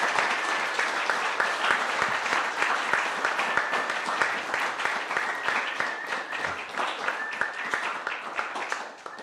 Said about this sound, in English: Can we give another round of applause for that speech?